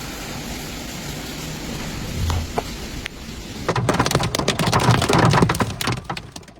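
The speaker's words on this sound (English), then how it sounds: "Several supercell thunderstorms developed over northern Germany, creating ideal conditions for large hail and intense rainfall." Heavy rain from a supercell thunderstorm over northern Germany, a steady dense wash that thickens in the second half, broken by sharp cracks and rumbles of thunder, with no voices.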